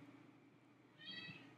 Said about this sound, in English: I don't know if you can hear Sophie back here meowing.